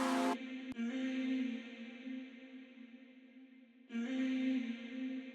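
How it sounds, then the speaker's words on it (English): A sustained, chopped-up vocal tone washed in heavy reverb, cutting out briefly and swelling back in, with a long echoing tail. "This atmosphere sound, which is just a bit of a vocal cut up with loads of reverb on it."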